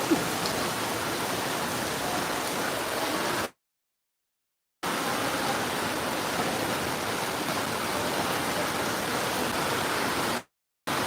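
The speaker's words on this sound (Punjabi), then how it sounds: "ਬਹੁਤ ਜ਼ਬਰਦਸਤ ਮੀਂਹ" Very heavy rain pours down in a dense, loud, unbroken roar, cut by two short stretches of total silence.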